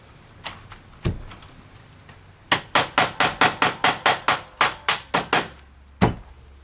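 Hammer blows drive nails into stucco wire lath: a few scattered strikes, then a quick rhythmic run of about a dozen sharp hits and one final blow, close and clear.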